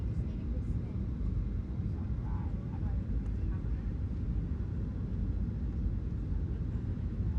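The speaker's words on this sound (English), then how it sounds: "we're going to be going in for a landing at Kingsford Smith very, very soon" Constant deep roar inside a Virgin Australia airliner cabin on approach to landing at Sydney Kingsford Smith, a steady even drone with faint voices mixed in.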